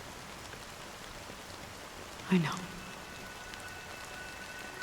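Rain falls steadily in the Honkai Star Rail game, an even wash of drops heard throughout, with a brief louder thump partway through and a voice speaking a few words.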